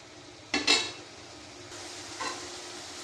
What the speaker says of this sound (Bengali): জালটা ছোট করে দিয়ে মশলাগুলো ভেজে নেব